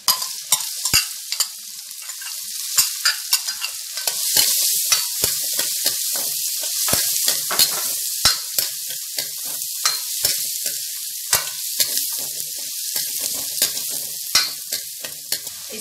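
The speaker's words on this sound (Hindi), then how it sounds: "और इसको थोड़ा भूनेंगे। इसमें डालेंगे चॉप्ड ऑनियन," Chopped onion frying with ginger for restaurant-style pav bhaji, a loud, bright, continuous sizzle with frequent crackling pops and stirring scrapes, close up with no talk.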